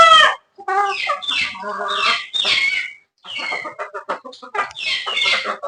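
A hen and roosters cluck in a backyard coop in bursts of close, loud calls with short pauses between them, and the roosters sound agitated.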